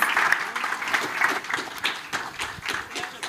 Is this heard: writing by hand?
no